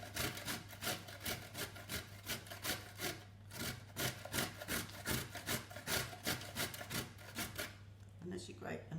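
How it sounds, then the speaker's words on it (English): Sweet potato and carrots rubbed against a kitchen grater in a steady back-and-forth rhythm of rasping strokes, close and fairly quiet, with no talk. "The first thing we need to do is grate the sweet potato."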